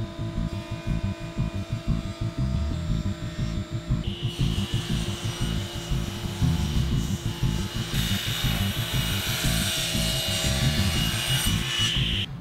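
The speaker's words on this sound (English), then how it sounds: "and then I can rip them to their final width" Cherry and walnut boards being ripped to width on a powered saw, a steady loud broadband cutting roar over a low motor hum that grows brighter and harsher midway, running continuously with no talk.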